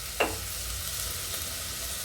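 Sliced onions with a little salt fry in a pan for quail gravy, giving a soft, steady sizzle after one brief scrape or stir near the start, with no talk.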